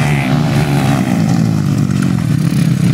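Loud, continuous engine roar from XR and KLX dirt bikes racing at the Sagbayan race track, the buzzing note holding steady and filling the whole stretch without a break.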